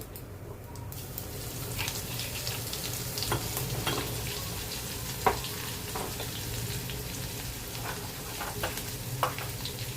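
Mustard seeds, cumin and crushed garlic frying in hot oil for a green pea curry, a continuous close sizzle with scattered sharp crackles and pops throughout.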